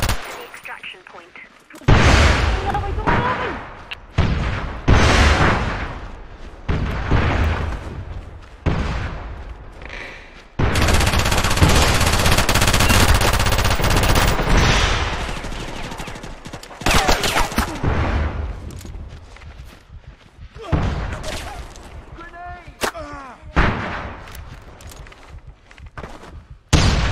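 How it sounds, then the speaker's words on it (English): Gunfire in Socom Confrontation on PS3, a Kasbah extraction map, with loud, close bursts and sustained volleys of shots and booms throughout, interrupted by short gaps and voices talking. "Get me to safety. They're shooting."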